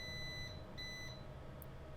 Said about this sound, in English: Well, a couple of beeps there, so it sounds like it's doing its thing.